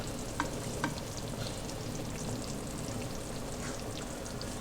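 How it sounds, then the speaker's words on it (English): Meatballs simmering in sauce over reduced heat, a soft continuous bubbling hiss with a couple of light taps early on, steady and fairly quiet. "It just needs to simmer, so I'm reducing the heat and it just simmers and the meatballs go in"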